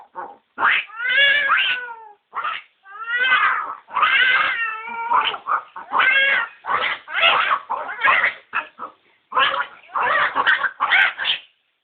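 Two mimicry artists voice-imitating a fight between two cats on stage, with loud, close, wavering yowls, meows and snarls traded back and forth in rapid overlapping bursts.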